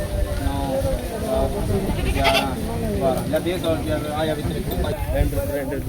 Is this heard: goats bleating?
yes